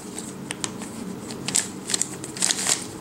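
A 4x6x8 bump cuboid twisty puzzle being turned in a deep cut move, a quick series of close plastic clicks and scraping snaps over a faint background hiss, no voice.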